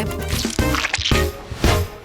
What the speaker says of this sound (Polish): Kapiemy kilka kropli kolorowych barwników i mieszamy